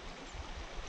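Water flowing in a creek on a warm, clear 70-degree day during fly fishing for wild brown trout in Pennsylvania: a steady, fairly quiet broadband rush and gurgle with no talk.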